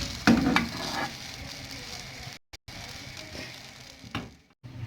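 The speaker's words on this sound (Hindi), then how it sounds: "अब इसके पराठे को पैन के अंदर या तवे के अंदर डाल देंगे" Leftover dal paratha frying on a hot tawa, a steady broad sizzle with a few louder pops and crackles near the start, briefly cutting out twice midway before resuming.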